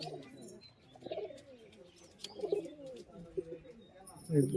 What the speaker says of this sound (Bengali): এগুলো হলো দেশি পায়রা